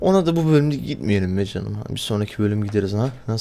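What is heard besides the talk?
No distinct noise like a dog, phone or traffic.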